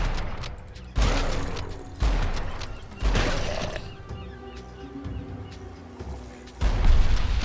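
Shotgun blasts in the zombie game Dead Island Epidemic, four sharp booming shots at roughly one-second intervals, a quieter stretch of mechanical clicks, then another heavy blast near the end.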